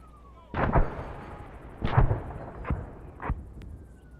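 Gunfire in a military video game combat operation in Chernarus. Four sharp, booming shots come spaced about a second apart over a quiet background, each one decaying quickly.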